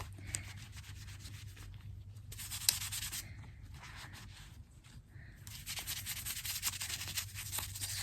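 A thrifted doll is scrubbed clean with a brush, making soft repeated scratchy rubbing strokes in bursts with brief pauses, close and quiet, no talking.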